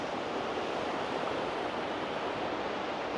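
Rushing river water flows steadily beside riverside restaurants in Tashkent, a broad, constant roar that stays even and alone for about three seconds with no voices.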